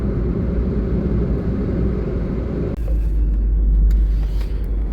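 Steady road traffic of cars in Dhampur, a continuous low rumble of passing engines that stays close and loud throughout, swelling slightly in the second half with no voices.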